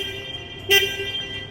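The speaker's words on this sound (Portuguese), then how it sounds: "Aqui nós temos a buzina." A quick single beep from the horn of a CPQYD35-XF2 combustion forklift sounds over a steady idling engine hum, short and loud.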